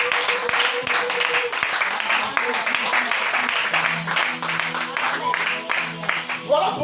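Loud steady clapping and cheering from a church congregation praising the Lord, a dense continuous wash of applause with voices shouting and singing through it.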